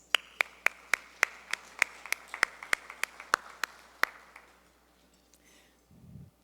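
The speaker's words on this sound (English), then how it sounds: "a round of applause, please" A round of applause at a management association general membership meeting: about fourteen distinct, evenly spaced sharp claps from a small group, fairly close, fading out after four seconds, followed by a faint low rumble.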